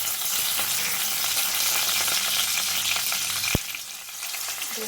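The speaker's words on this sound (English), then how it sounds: "my oil is heated, so I'm going to add the turmeric powder, the mustard seeds, and the moldy fish flakes first." Turmeric powder, mustard seeds and dried fish flakes crackle in hot oil with a dense, steady sizzle close up, broken by one sharp click partway through.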